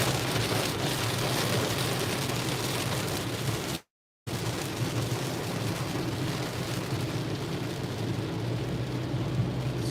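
Heavy rain pours down hard on a car during a drive, a dense, loud, steady roar of drumming water on the roof that cuts out for a split second, then resumes unbroken.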